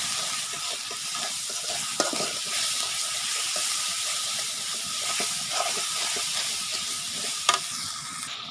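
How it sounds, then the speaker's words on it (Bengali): Spice masala sautés in a pan with a steady hiss and sizzle. A few sharp spoon knocks and scrapes stand out now and then, and no voices are heard. "মশলাটা কষানো হইতেছে।"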